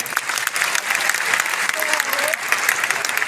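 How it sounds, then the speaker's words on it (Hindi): An audience at a maths seminar in Patna breaks into strong, sustained applause, dense clapping from a large crowd filling the room and continuing steadily. "मैं आप सबसे चाहूंगा एक बार आप जोरदार तालियों से स्वागत करिए"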